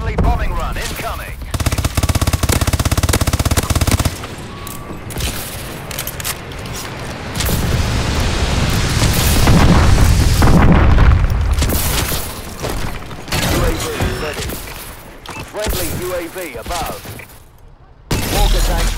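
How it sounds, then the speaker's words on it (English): A friendly bombing run in a first-person shooter game unleashes dense, rapid bursts of gunfire and heavy explosions, loud and sustained with brief lulls, a chaotic barrage that rises and falls over the whole stretch. "Friendly bombing run incoming."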